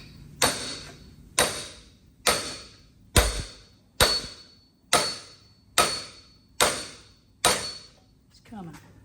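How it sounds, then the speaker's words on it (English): Hammer blows strike a part on a homemade garden tractor, nine sharp metallic hits at a steady pace of about one per second, each ringing briefly before the next, fairly close. "You hammer on this thing enough, it'll make you sleep like a baby."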